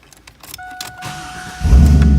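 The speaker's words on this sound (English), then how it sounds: "we'll climb in and fire this one up for you" A 2001 Chevrolet Camaro Z28 SS SLP starts up: a starter chime and clicks from the cabin, then the V8 cranks and catches into a loud, close, deep rumbling idle.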